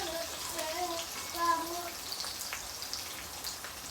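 Cubed onion dropped into hot oil fries with a steady hiss and crackle, close and continuous, for a vegetable stir-fry beside chicken wings.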